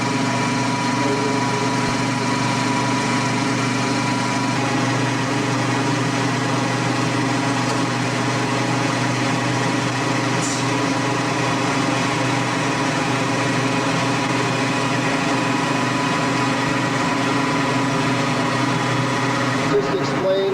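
Ural motorcycle export engines run through a loading test cycle, giving a steady, close, continuous engine drone with a constant pitch for the whole stretch.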